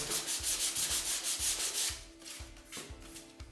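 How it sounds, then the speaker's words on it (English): Wood is sanded by hand up close, a rhythmic rasping of quick back-and-forth strokes that turns softer and more irregular partway through. It is worked on a DIY fake-window lightbox. "we will be sanding down this part because we will be gluing there"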